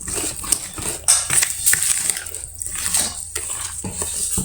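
A spoon stirs a chocolate mixture with sugar in a pot, giving irregular metallic clinks and scrapes against the sides, close and fairly loud, with brief pauses between strokes.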